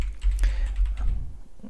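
Computer arrow keys pressed on a keyboard while nudging an image in Inkscape, giving a few close, light clicks over a low steady room hum, with no voices.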